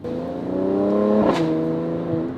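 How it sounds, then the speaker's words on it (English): A Mercedes-AMG C43 Cabrio's V6 revs up with a rising engine note, then a quick shift cracks through at the peak before the tone settles into a lower drone, heard close and alone. "I am not a big fan of that shifting sound, but it is quite fun. The V6 still sounds incredibly good."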